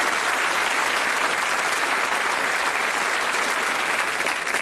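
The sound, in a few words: applause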